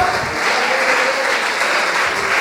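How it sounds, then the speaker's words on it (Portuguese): A church congregation claps steadily and loudly in a dense, sustained round of applause with no break. "Pode aplaudir mais forte."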